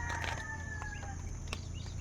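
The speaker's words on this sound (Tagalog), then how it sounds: "Andun yung inahin oh." A mother hen clucks close by in a farmyard where chicks have hatched, giving a few short harmonic calls over steady low background noise.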